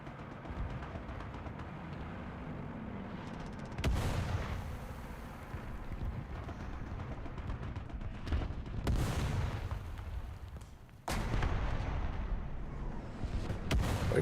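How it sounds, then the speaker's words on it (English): Artillery fire in a tank combat game, several heavy booming blasts with sharp onsets landing over a continuous rumbling engine and battlefield background. "Are you guys dropping artillery down there?"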